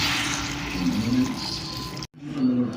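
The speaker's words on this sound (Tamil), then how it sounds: "தண்ணி ஊற்றிக்கலாம்" Water pours steadily into a cooking pot over a wood-fired stove, with a splashing, filling sound up close, briefly interrupted and then resuming.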